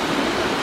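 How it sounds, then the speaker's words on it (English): A park waterfall in Victoria Park, Berlin, pours with a dense, steady broadband rush, close and continuous throughout the short stretch with no voices. "we found this nice waterfall in the middle of the park."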